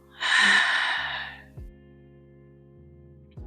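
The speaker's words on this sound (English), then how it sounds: "Take a deep breath and let this energy move through you now. Inhale. Exhale." Deep breath during a guided meditation: a single strong, airy inhale-like rush lasting about a second, then a soft fading exhale, heard alone over a quiet sustained musical drone.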